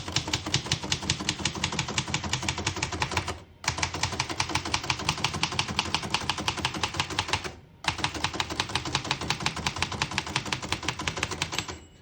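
A 1923 Remington Portable typewriter clatters in fast, steady keystrokes that run unbroken except for two short pauses, close and fairly loud with no talk.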